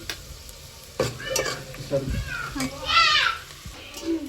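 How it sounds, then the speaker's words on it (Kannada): Onions fry in light oil with ginger-garlic paste for a village chicken dish, a soft sizzle running under lively talk and a voice close by. "ಇವಾಗ ಉಳ್ಳಾಗಡ್ಡಿ ಫ್ರೈ ಮಾಡಕತ್ತಾಳ"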